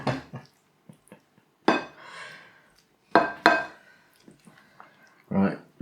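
Warm rice pudding is spooned out of a baking dish into a bowl: a few sharp spoon clinks and scrapes against ceramic, spaced out over several seconds, close and clear in a quiet room.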